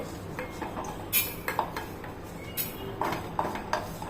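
Roasted cumin seeds are scraped from a pan into a dish, giving faint metallic clinks and light scrapes at close range. Small taps come in scattered, uneven bursts over quiet background noise.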